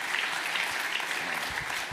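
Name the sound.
audience applause at a summit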